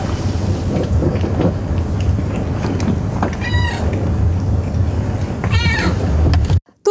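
Cats meowing in a crowded cat cafe, two short meows rising above a steady loud rumble like rain, then a sudden cut to silence.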